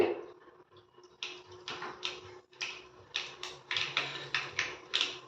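Mustard seeds spluttering in hot oil while making bitter gourd tamarind curry, a rapid irregular run of sharp crackling pops that grows denser and louder toward the end.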